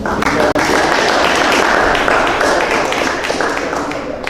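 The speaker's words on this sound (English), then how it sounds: "I want to give you a round of applause" Audience applause at a school hall of fame news conference, a continuous crowd of clapping hands, loud and close, holding steady for several seconds before tapering slightly.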